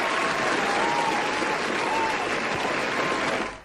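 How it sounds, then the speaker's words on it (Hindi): Steady applause from a studio audience, loud and continuous for several seconds with faint whistle-like tones over it, fading out at the end. "तो आप सभी के लिए सबसे पहले तो मैं ये तालियां बजाना चाहूंगा।"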